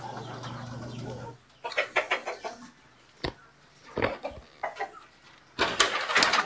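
Native laying hens clucking and calling in short broken bursts at a Philippine farm, fairly close, with some background noise and scattered sharp knocks.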